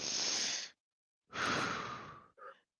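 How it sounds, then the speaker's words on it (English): A deep breath drawn in with a hiss, a pause, then a long audible exhale ending in a short breathy catch, close and fairly loud. "take a deep breath"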